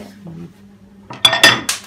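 While caramel popcorn is being made, a cooking pot clinks and scrapes against a bowl in a kitchen. A few sharp, close metallic knocks and rattles come after a quieter, murmuring moment.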